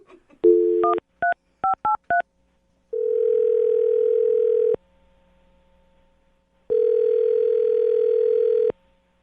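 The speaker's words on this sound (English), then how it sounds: "I'm going to dial her phone number right now" A telephone is used to call someone's number. Seven quick keypad tones beep in an uneven rhythm, then two long, steady ringback tones follow, separated by a quiet pause, with no voices.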